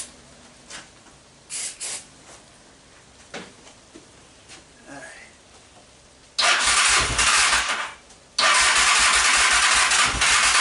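An old engine that sat for seven years, carbs primed with starting fluid, cranks in short bursts, then catches into two loud roaring runs split by a brief cutout, up close.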